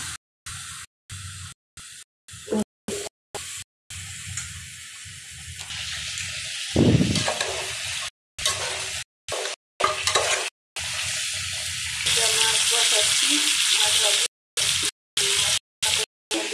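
Spice masala is stir-fried with onions in a pan while cooking fish and chicken bhuna, with bursts of sizzling and spatula scraping repeatedly chopped off by sudden short silences.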